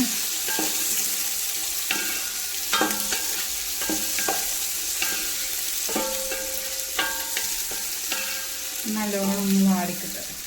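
Three sliced onions cooking in a pan in a home kitchen, with a soft steady sizzle, repeated sharp scraping and stirring knocks, and a brief clatter near the end.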